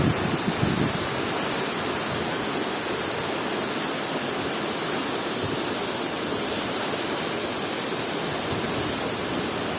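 A waterfall roars at close range as a dense, unbroken rush of falling water, loud and steady from start to finish.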